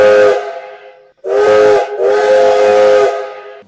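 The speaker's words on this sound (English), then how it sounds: "I haven't heard a whistle like that since." Three loud steam whistle blasts: a short toot, then two long sustained hoots, the last held for nearly two seconds before fading.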